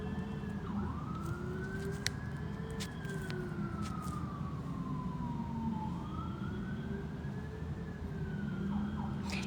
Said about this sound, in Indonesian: Itu ambulans.